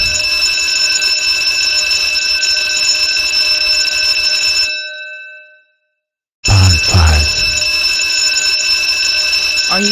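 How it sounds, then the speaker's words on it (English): A fire alarm rings loudly with a steady electronic tone, cuts off for about two seconds, then starts ringing again while a voice briefly sounds under it. "Today, I'm going to pull the fire alarm again."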